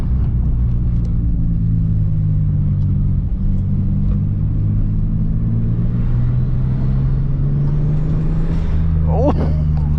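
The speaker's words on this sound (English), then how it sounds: "I'm driving a Supra" A JDM Toyota Supra MK4 droning steadily from inside the cabin while being driven, a constant low engine rumble that rises slightly in pitch toward the end, with speech over it.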